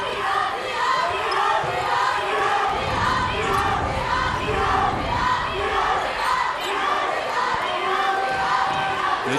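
A packed fieldhouse crowd roars at a Class 5 boys high school basketball district final, a dense continuous din of shouts and cheers with a commentator talking over it.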